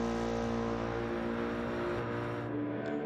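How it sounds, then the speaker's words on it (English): A race car engine roars steadily down the back straight at Mount Panorama in Gran Turismo 7, a loud sustained drone with a high whine that shifts pitch slightly near the end. "Listen to that engine roar as they come down the back straight"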